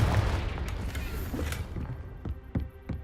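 In Hogwarts Legacy, a Confringo spell bursts with a dull booming blast that quickly decays, followed by a few light thumps and footsteps in the game, moderately loud.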